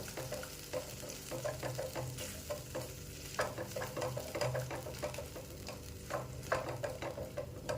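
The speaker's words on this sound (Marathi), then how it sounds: "कमी आप आचेवर आपल्याला हे चांगलं परतून घ्यायचं आहे" Ground spice paste for veg kolhapuri sautés in oil over a low flame, making a quiet, continuous sizzle with frequent light scrapes of a stirring spoon.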